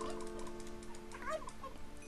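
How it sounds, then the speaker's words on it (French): A turkey gobbling in the survival video game HunterZ, a short, faint warbling gobble rising over a low mechanical hum and background tones. "Allez, un petit dindon là."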